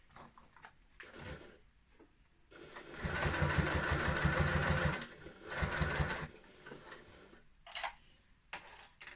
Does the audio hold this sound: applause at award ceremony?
no